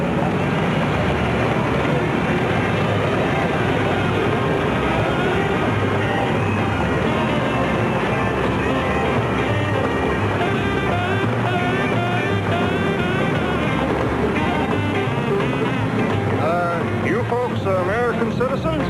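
City street soundtrack from the film Touch of Evil, a busy mix of traffic, music from loudspeakers and car radios and crowd noise, continuous and loud, with voices talking through it.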